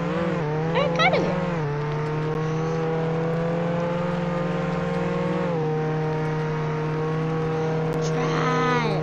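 A car in the Roblox game Jailbreak drives with a steady, continuous engine drone that shifts pitch slightly midway, with brief revving bursts near the start and end.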